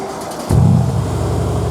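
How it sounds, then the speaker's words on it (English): A Mercedes C63 AMG with a 4.0L engine fires up via keyless start: a short quiet lead-in, then a sudden loud catch at half a second settling into a deep, steady idle rumble. "Firing her up, we've got keyless start."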